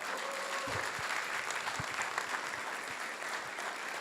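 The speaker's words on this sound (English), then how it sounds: "Give her a round of applause." A comedy audience gives a round of applause, steady and fairly distant, with scattered low thumps beneath the clapping and no speech over it.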